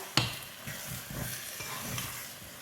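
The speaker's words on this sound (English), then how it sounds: "you want to stir the rice from the bottom up, mixing very well." A spoon stirs yellow rice with luncheon meat in a pot, giving a sharp scrape at the start and then soft repeated stirring strokes over a low, faint sizzle.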